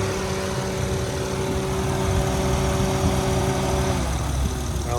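A 2008 Acura TL Type S idles steadily up close, a smooth even engine hum with a faint background whir, unbroken for the whole stretch.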